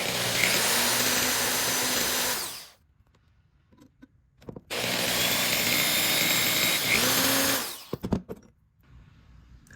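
Power tool cutting a piece of aluminium goggle part for WWII RAF Mark IV goggles: two loud, steady whining bursts of a few seconds each, separated by a quiet pause with small clicks and handling noises.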